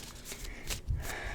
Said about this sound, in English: it's just I'm shuffling the deck.